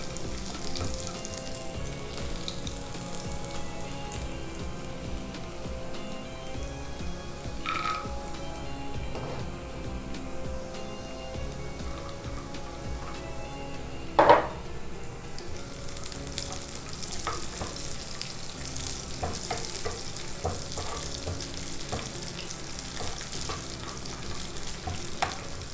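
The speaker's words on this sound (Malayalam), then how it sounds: "ചെറിയുള്ളി ഒന്ന് മൂത്ത് വരുമ്പോൾ നമുക്ക് അണ്ടിപ്പരിപ്പും മുന്തിരി ചേർത്ത് കൊടുക്കാം." Shallots fry steadily in a pan and cashews and raisins are added, giving a constant close sizzle with occasional stirring clinks and one sharper knock partway through, no talking.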